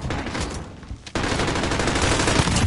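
Rapid gunfire from Call of Duty Modern Warfare in a solo battle royale match. Dense, continuous bursts of shots fill the moment after a brief dip, loud and close.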